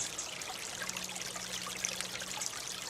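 Water flowing along a small seasonal creek partly clogged with leaves and grass on rural property, a steady broadband rush with gentle trickling texture, continuous and fairly close for the whole stretch.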